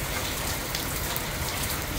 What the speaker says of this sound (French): L'eau de pluie qui tombe là